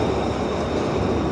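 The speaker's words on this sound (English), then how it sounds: "I'm now down here on the platform for the Glasgow Subway." Steady, loud rumble and roar of a Glasgow Subway train at the underground platform, a continuous dense wash of rail noise with no talking.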